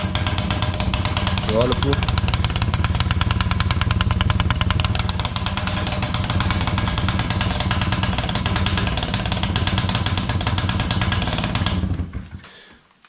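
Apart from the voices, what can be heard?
Honda Wallaroo moped engine starting and running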